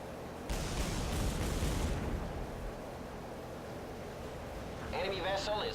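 Naval guns in the Battlestations: Midway game pound an enemy ship, with a loud rumbling blast and splashing boom early on, followed by a low fading roar and a brief metallic burst at the end.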